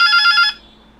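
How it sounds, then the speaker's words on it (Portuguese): A telephone rings with one loud electronic burst lasting about half a second, then cuts off, leaving quiet room tone in a workshop where an audio power block is being tested. "e meu telefone toca."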